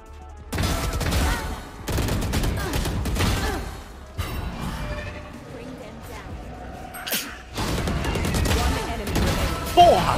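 Vandal rifle with the Lugubre skin firing in Valorant, in rapid full-auto bursts separated by short pauses, loud and close, with game sounds and voices in between.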